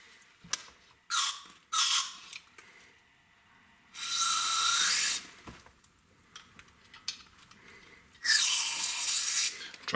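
Bursts of spraying hiss during a rear brake job on a Toyota Avalon, several short sprays followed by two longer sustained blasts, with quiet clinks and handling noises between them.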